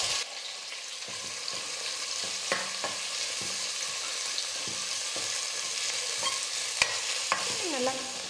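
Thinly sliced onions and curry leaves sauté in a pan with a steady sizzle and frequent scraping stirs, close and continuous, with no talking.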